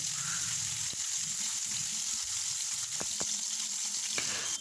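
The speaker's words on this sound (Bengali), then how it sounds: "কড়াইয়ের মধ্যে সর্ষের তেল দিয়েছিলাম, দিয়ে তেলটা গরম হতেই আমি বেগুনগুলোকে ভেজে নিচ্ছি।" Eggplant slices fry in hot mustard oil in a wok, a soft, even sizzle with faint crackles and a few sharp clicks of a utensil against the pan, fairly quiet and continuous.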